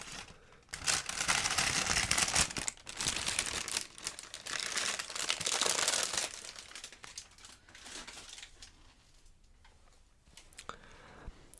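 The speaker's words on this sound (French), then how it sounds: "Petit papier qu'il y a dans les boîtes de chaussures." Thin tissue paper from a shoe box for Vibram FiveFingers shoes crinkles and rustles loudly up close, dense at first and then thinning into sparse scattered crackles.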